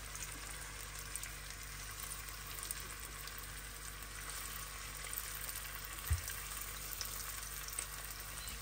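Steady sizzling of dough patties frying in a hot pan, continuous and fairly close, with a faint clink partway through.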